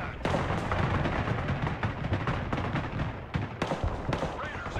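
Bomb strike explosions in the war video game Broken Arrow land as a rapid series of sharp thuds and cracks, heavy and close, with a brief lull midway before more blasts follow.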